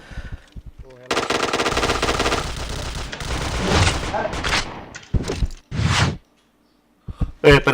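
Rapid machine-gun bursts and gunshots from a shooter video game, loud and close, running in long sustained volleys with short gaps and a final sharp burst, with a player's voice briefly under the fire.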